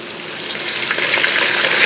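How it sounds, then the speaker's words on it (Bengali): Ginger paste fries in hot oil with chopped tomatoes in a pan, giving a close, steady, loud sizzle that swells slightly over two seconds, with no voices. "এই যে আদাটা একটু ফ্রাই হয়ে গেছে"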